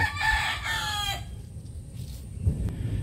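Gamefowl roosters of the grey line crow at a farm, one loud nearby crow ringing out for about a second before fading into quieter background clucks and farmyard noise.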